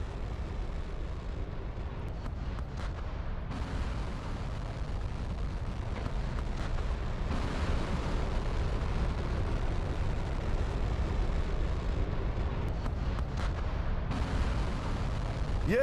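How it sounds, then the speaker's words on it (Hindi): Intercontinental ballistic missile launch: a loud, continuous broadband roar with deep rumble, swelling in a few abrupt steps, and no talking over it. "इंटरकॉन्टिनेंटल बैलिस्टिक मिसाइल लॉन्च कर दी गई है"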